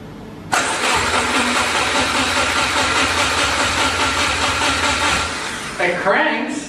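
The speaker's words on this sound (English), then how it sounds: "What we have is we have the engine turning over," A Subaru engine cranks and turns over after an engine swap. The loud, steady churn starts abruptly and runs for several seconds before faltering near the end. Voices can be heard nearby.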